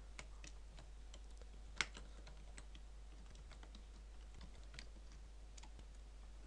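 Computer keyboard keys clicking in a quick, irregular burst of typing, faint and close against a steady low electrical hum, one keystroke landing noticeably harder than the rest.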